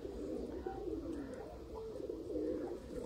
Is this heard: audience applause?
no